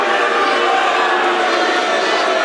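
Crowd at a 2008 District 29 high school wrestling finals match reacting with loud, sustained, dense noise from the stands, continuous and close throughout.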